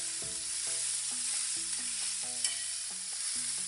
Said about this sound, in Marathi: आपण याच्यामध्ये अद्रक टाकूया. लाल मिरची.